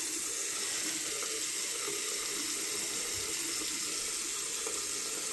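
Hot water runs steadily from a household faucet, a continuous close splashing hiss into the sink with no talking.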